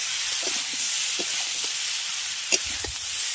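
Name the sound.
vegetables sautéing with ginger paste in a wok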